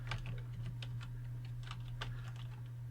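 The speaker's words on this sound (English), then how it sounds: "you want to put your cursor in there and you want to type" Quick keystrokes tap on a computer keyboard at a PC, faint and close, over a steady low electrical hum, with no talking.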